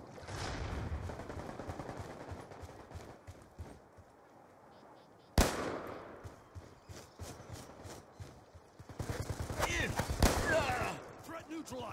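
Gunfire in the Black Ops 2 multiplayer map Cove, with sharp scattered shots and bursts, one loud crack near the middle and denser firing toward the end, faint and mixed with game sounds.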